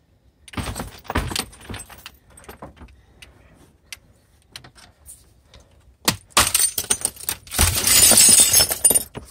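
Shards of broken computer screen glass are dumped into a trash can, with a few jangling clinks early on, then a sharp clatter and a dense burst of crashing, tinkling glass near the end. It is close, with no voices.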